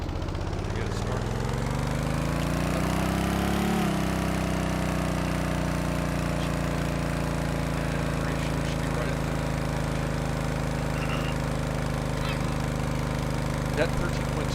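An engine controlled by a modular EFI controller runs continuously at a steady idle. Its revs dip and settle early on, and the low rumble stays close and loud throughout.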